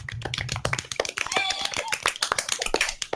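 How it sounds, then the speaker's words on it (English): A small group claps during a Dungeon Master tabletop game session. Close, uneven clapping mixes with voices talking and cheering over it. "Let's give a round of applause for my sister,"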